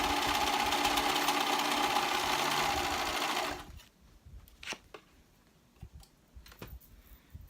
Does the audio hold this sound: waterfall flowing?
no